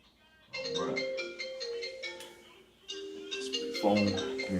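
Phone ringtone chiming in a melodic, repeating pattern of bright tones in two bursts, fairly close, with no talk over it.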